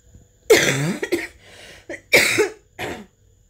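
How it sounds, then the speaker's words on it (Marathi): A woman coughs close to the microphone in two harsh fits of several bursts each, separated by short pauses, with no other sound. "मला आहे ना खोकला आहे, भरपूर खोकला आहे"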